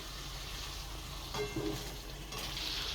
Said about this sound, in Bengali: এই যে আলু দিয়ে মশলার সাথে ভালো করে কষায় নিয়েছি